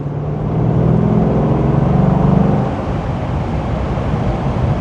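A car with a K&N cold air filter pulls through third gear from 2,000 to 3,000 RPM, its engine a steady, rising drone that holds for a couple of seconds, then eases into a lower, rougher hum.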